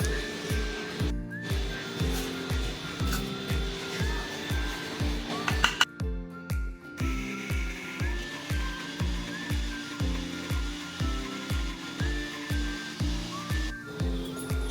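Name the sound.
mixer grinder grinding soaked dal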